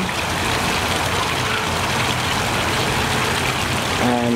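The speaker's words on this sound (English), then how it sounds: "They have a nice water fountain here." Water fountain splashing steadily at a Tampa Bay hotel, a continuous close wash of falling water with no break, joined near the end by a faint tonal hum.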